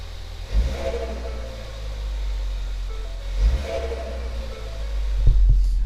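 A Ford Fiesta ST engine with a DIY cold air intake revs up twice in strong surges over a deep idle, with a fluttering intake rush, close and loud, then a final rev.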